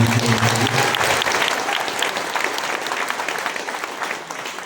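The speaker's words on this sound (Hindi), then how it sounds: "जोरदार तालियां।" Loud, dense audience applause fills the space, steady at first and then slowly thinning toward the end, with a low hum at the start.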